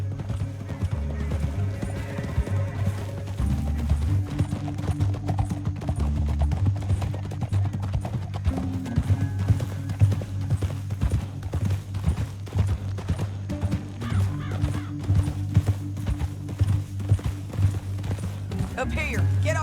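Rhythmic hoofbeats of horses galloping through a canyon in the video game Red Dead Redemption 2, under a steady bed of music and effects, with occasional whinnies; continuous and fairly busy throughout.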